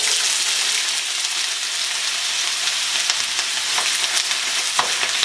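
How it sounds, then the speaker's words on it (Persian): Bitter melon (karela) frying in hot oil, a steady loud sizzle with faint crackles and pops throughout and no talking. "آل ما اضافهش میکنیم بالای روغن."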